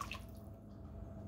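Water is poured into a bowl of boxed cake mix and oil for a Better Than Anything Cake, a brief soft splash and trickle at the start fading into quiet room hum, close and unaccompanied.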